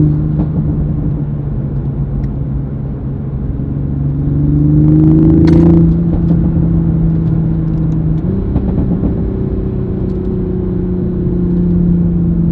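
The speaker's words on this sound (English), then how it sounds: "The stock exhaust sounds really good" A Toyota Supra's stock exhaust drones loud and close, its low engine note rising steadily under throttle, dipping at a gear change, then climbing again, with no talking.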